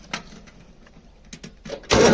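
A farm tractor's diesel engine cranks in short weak bursts after running out of fuel, then catches into a sudden loud roar near the end.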